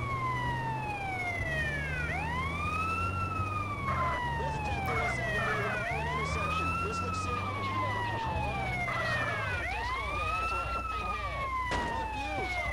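An ambulance siren in GTA San Andreas Definitive Edition wails in repeated rising and falling sweeps over a steady engine drone, loud and continuous, with a voice talking faintly underneath.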